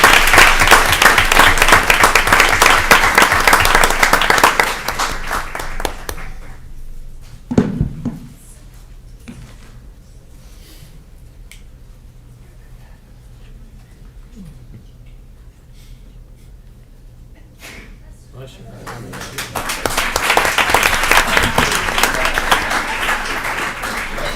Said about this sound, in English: So can we all give a round of applause for our amazing Mrs.